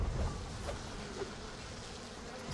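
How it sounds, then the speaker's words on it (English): Bees buzz in the BioShock Remastered video game, a faint, continuous insect drone hanging steadily in the background with no other clear sounds. "Do I have to actually swat these bees away?"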